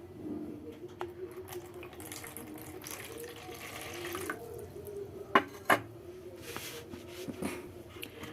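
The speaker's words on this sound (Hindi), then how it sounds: "और इसमें ऐड करेंगे वाटर" Water poured into a vessel while preparing homemade dishwashing liquid, a steady rushing splash with a few sharper drips and knocks, close by and moderately loud.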